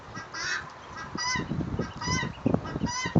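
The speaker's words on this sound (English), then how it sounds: "Why is that guinea hen doing that?" Loud, harsh honking guinea hen calls repeated in uneven bursts, close by, with scuffling and rustling noises underneath.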